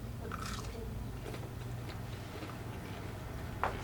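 Crispy fried pickles dipped in ranch being bitten and chewed, with soft crunching bites and quiet chewing close up over a steady low room hum.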